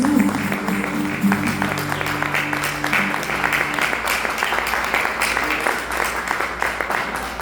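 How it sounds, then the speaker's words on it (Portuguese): A Portuguese-speaking church congregation gives a round of applause for Jesus, dense steady clapping throughout, with a sustained tone and voices beneath it during the first half. "Dê sua melhor salva de palmas para Jesus"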